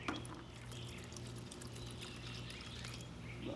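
Paint thinner pouring from a bottle into a container of paint, a steady continuous trickling pour running the whole time with a faint low hum underneath.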